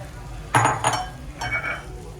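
Washed rice is stirred into vegetables and spices in a cooking pot for ivy gourd rice. Two short bursts of spoon scraping and clatter come close up against a low kitchen background.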